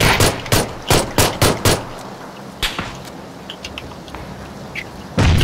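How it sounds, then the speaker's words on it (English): Gunfire in the battle royale game PUBG, a rapid burst of six loud, close shots followed by scattered quieter distant reports and another loud shot at the end, no talking. "They're shooting at me from everywhere."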